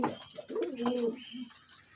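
Pigeons offered for sale in Khanga Dogran, Sheikhupura district, give soft, low rolling coos, a couple of gentle murmuring calls close by in a quiet setting.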